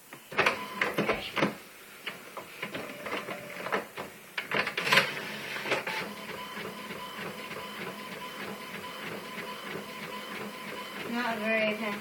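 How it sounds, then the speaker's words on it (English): An HP Photosmart C4780 all-in-one printer runs a print job nearby, with clicking feeds, whirring carriage passes and mechanical clunks, while a person talks over parts of it. "we're going to want to see it print, and we're going to see it print right now."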